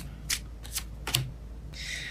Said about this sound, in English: All right, I keep shuffling.